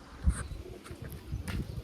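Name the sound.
pigeon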